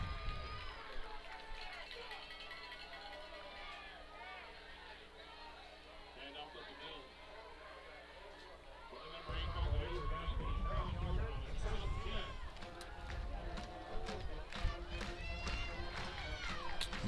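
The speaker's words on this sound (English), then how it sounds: "You hear the Stallion Battalion in the background cheering on the Mustangs, making a little noise." A high school student section cheers on the home team at a football game, a steady distant crowd roar that swells louder midway, with a commentator talking over it.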